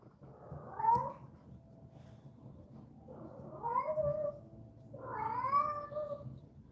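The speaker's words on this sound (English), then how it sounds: "I'm sorry about the cat, y'all." A cat meows three times in a row, each call drawn out and wavering, fairly close and clear over a quiet room during a fly-tying session.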